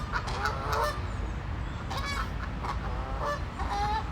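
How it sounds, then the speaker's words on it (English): A flock of geese honks loudly and repeatedly by a lake, harsh overlapping calls in bursts close by, with no talking. "Wait, geese are going crazy."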